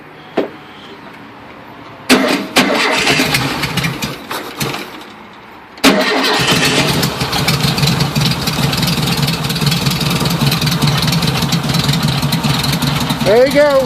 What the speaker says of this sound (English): 21 degree cold start. 1973 VW 1600 motor.